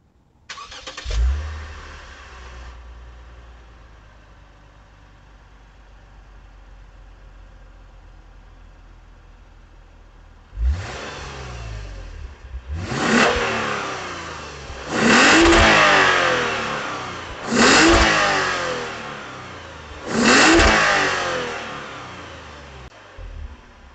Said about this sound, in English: let's start the engine up and take a drive